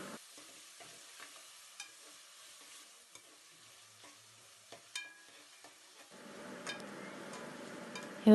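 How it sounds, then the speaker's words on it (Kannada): Tomatoes frying in a pan for mutton biryani, stirred now and then: soft scattered scrapes and taps over a faint sizzle that swells louder toward the end, close and fairly quiet. "ಟೊಮ್ಯಾಟೊ 2, ಇದು ಚೆನ್ನಾಗಿ ಫ್ರೈ ಆಗಬೇಕು."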